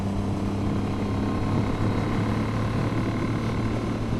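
A Triumph 900 triple motorcycle engine runs at a steady, even drone for the whole stretch, a continuous mid-level hum with a low harmonic tone and no clear revving, with no speech over it.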